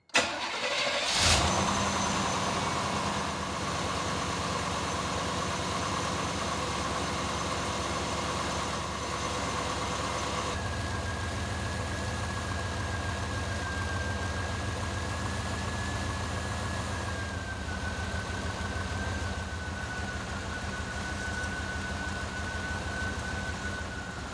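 A car engine cranks and starts, then settles into a steady, even idle with the transmission in park, running loud and close for the rest of the stretch with no talk.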